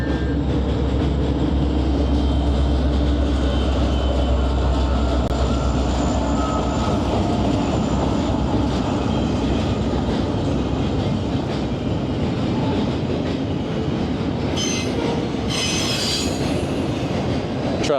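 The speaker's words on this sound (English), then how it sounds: "Comes a train. Y'all cover your ears." A train rolls past a kayak angler on Sandusky Bay, a loud, continuous rumbling roar of wagons with metallic wheel squeals and rattling that holds steady throughout, with sharp screeches near the end.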